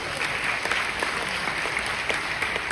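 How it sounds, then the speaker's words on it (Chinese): An audience clapping at a business talk, a steady crackle of many hands that stays even and close for the whole short burst, with no voices. "不值得来个掌声吗"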